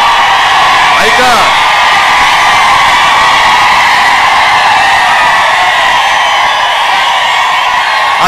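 A large outdoor crowd at an election campaign rally, whooping, yelling and cheering in a loud continuous roar that holds steady for several seconds.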